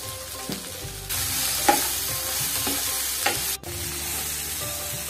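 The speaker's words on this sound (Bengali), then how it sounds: "ভালো করে নাড়িয়ে চাড়িয়ে একটু ঢেকে দেব।" Okra frying in a pan with salt and turmeric for masala bhindi, sizzling steadily while a utensil scrapes and stirs through it in irregular strokes, close and fairly loud, with a brief pause near the end.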